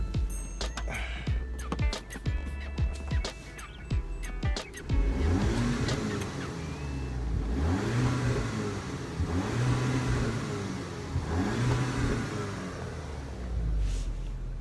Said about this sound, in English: So now the car's warmed up. Let's get a few revs.